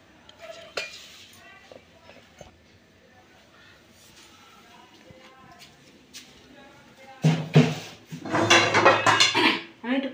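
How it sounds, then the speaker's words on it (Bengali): A metal wok (kadai) is set down on a gas stove in a home kitchen, giving a loud burst of pot-and-pan clatter and scraping near the end after quieter faint kitchen clinks. "আমি একটু কড়াইটা বসিয়ে দেবো গ্যাসে।"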